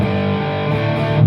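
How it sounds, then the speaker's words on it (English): Electric guitar played through a fuzz pedal into a Line6 Helix, a thick, saturated sustained chord ringing steadily and loudly, swelling slightly at the end, with no talking. "Let me hit it with the fuzz."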